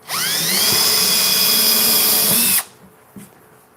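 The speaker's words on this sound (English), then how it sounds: "when I'm drilling these holes, it's going to hold to being flush" Power drill boring holes into a wooden board, a loud, steady high whine for about two and a half seconds that cuts off abruptly, followed by a faint knock.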